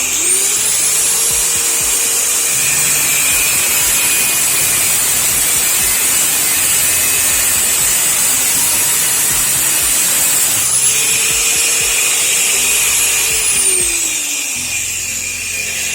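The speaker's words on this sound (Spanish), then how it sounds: "Ahí tenemos cómo se cortó muy fácilmente nuestra pieza utilizando una amoladora para realizar los cortes" An angle grinder cuts porcelain tile for mosaic work, a loud, continuous high whine and grinding hiss that runs steadily and close up, dipping slightly near the end as the cut finishes.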